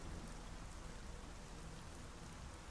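Steady rain in the video game Gears of War 4 hisses evenly across the whole clip, a dense, soft wash of drops with no voices.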